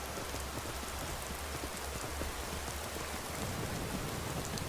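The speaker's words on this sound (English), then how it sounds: "Oh, great. We're gonna ride there in the rain." Steady rain falls continuously in the video game Skyrim, a dense even hiss of drops on surfaces with a low rumble underneath, uniform in level throughout.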